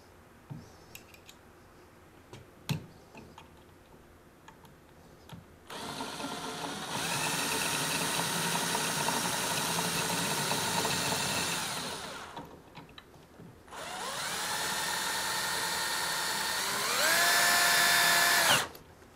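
A power drill drives self-tapping screws into a PVC bottom rail, whirring in two sustained bursts of several seconds each, the second rising in pitch near its end, after a few light taps.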